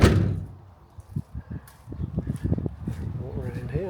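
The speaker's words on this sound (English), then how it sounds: "whether there's much of a difference now between a door that's been sound deadened on the bottom and one that has not" A VW Crafter van door without sound deadening swings shut with one loud, close thud at the start, followed by someone talking.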